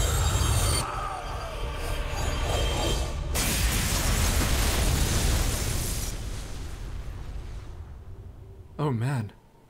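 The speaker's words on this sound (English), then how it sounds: "That was a big explosion." A big explosion in StarCraft II: Heart of the Swarm, a loud sustained rumbling blast that rolls for several seconds, cuts to a quieter, fading roar, then ends with a short warbling electronic tone.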